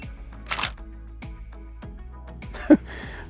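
A GoPro camera fires off a picture from a Telesin T02 remote, with a short faint click amid quiet handling noises and a brief sharper tap near the end.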